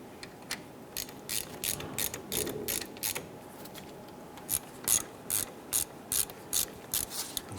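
Close ratchet clicking in repeated short bursts while brake caliper bolts are snugged down on a 1995-2001 Ford Explorer front brake job, crisp pawl ticks with brief pauses and no talking.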